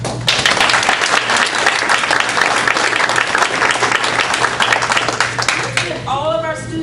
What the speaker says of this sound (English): Let's give all of our students and myself a round of applause